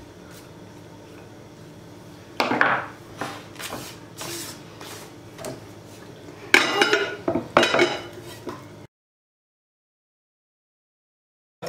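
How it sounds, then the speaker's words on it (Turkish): Spoonfuls of minced meat filling scraped from a pan onto a plate in a home kitchen, giving several bursts of clinking and scraping metal against dishware, loudest in two clusters, with quiet gaps and no talking. "Kıyma harcını hemen başka bir kaba alayım"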